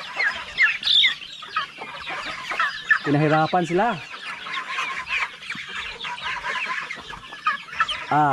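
Chickens cluck and squawk continuously nearby amid a busy farmyard, with a person briefly speaking over the flock.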